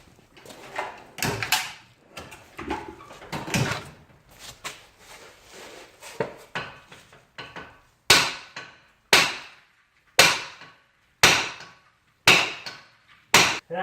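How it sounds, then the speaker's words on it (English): A hammer strikes the brake rotor of a Mini Cooper during wheel bearing replacement, a series of sharp metallic blows, scattered at first, then about ten evenly spaced heavy hits close by with brief ringing decay. "We'll give her a couple blows with the hammer."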